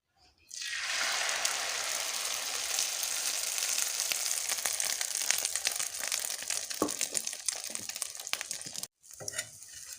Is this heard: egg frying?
yes